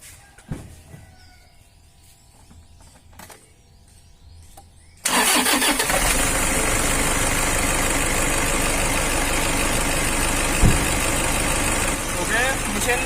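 After quiet rustling and a few clicks, the diesel engine of a 2005 Toyota Kijang Innova Type G cranks and catches abruptly, then settles into a loud, steady idle that continues throughout.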